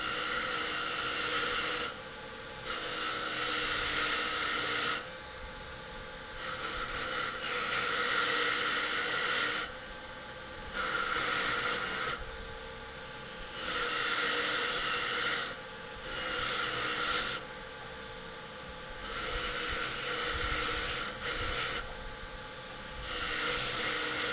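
A JOOLTOOL abrasive disc with coarse red grit rasps and hisses against a metal earring surface, stripping patina in repeated bursts of several seconds separated by short pauses, close and steady with no talk.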